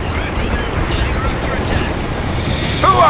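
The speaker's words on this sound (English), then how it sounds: "Shells on the way" Artillery shells bursting in the strategy game World in Conflict: a dense, continuous low rumbling roar of explosions at steady loudness, with a sharper burst near the end.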